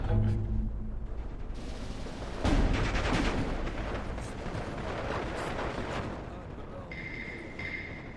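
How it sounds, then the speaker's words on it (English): Heavy 120mm mortar rounds fire and impact in Steel Division 2, a WW2 real-time strategy battle, with a loud booming blast partway through over a rumbling battlefield of scattered gunfire. "Let's mortar that with the 120s."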